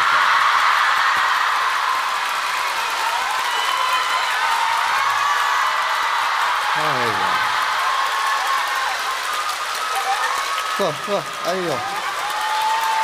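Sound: audience applause at a crosstalk show

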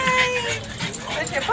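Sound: excited French bulldog whimpering and yipping

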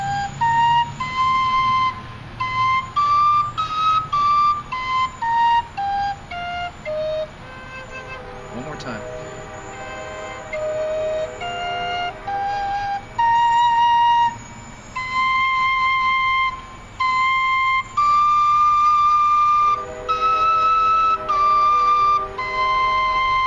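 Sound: four-hole Cherokee whistle playing minor pentatonic scale

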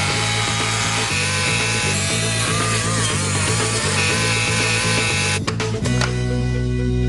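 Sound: power saw cutting a safe

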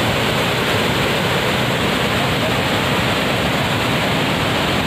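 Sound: Dikrutpi waterfall

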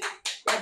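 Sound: hand clapping

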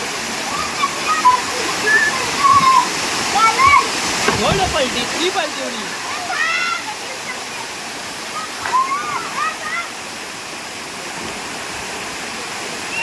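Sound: waterfall at Panvel, Maharashtra

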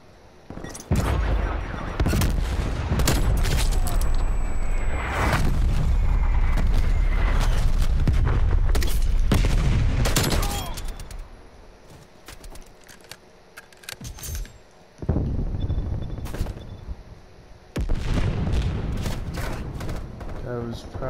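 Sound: gunfire in Call of Duty Cold War, video game

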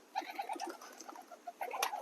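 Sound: pigeons

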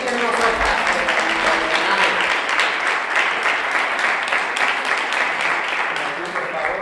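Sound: audience applause for a volunteer

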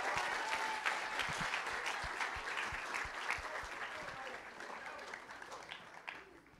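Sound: audience applause for the assistant principal

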